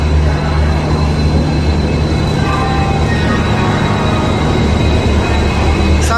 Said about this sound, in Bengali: সামনে এখন আমাদের ট্রেনকে শান্ট করা হচ্ছে WDG-4 লোকোমোটিভ